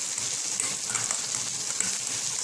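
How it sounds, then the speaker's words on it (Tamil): Mint and coriander sauté in a pan for an onion-based bhel puri preparation, giving a steady, soft sizzling hiss with faint stirring scrapes and no voices. "புதினா கொத்தமல்லி நல்லா வதங்கிருக்கு."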